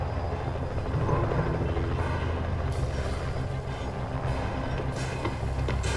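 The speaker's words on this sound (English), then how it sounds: "my drone spawned on the second floor" Steady whirring hum of a small recon drone rolling along a second-floor interior in Rainbow Six Siege, a continuous mechanical drone at close range throughout.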